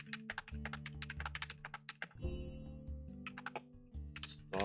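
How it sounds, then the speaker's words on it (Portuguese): Computer keyboard typing during the typing game Type King: rapid, close clicky keystrokes in irregular bursts, with game music and sound effects underneath. "Eu sempre digitei catando milho"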